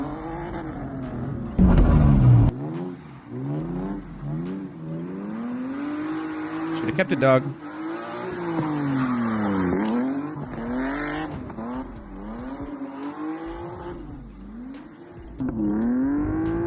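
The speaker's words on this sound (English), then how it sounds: "this is an old video of me in my car drifting on the street." A car drifting on a street, its engine revving and rising in pitch with repeated swells, a sharp loud burst near the start and another mid-way, steady and close throughout; someone speaks briefly over it.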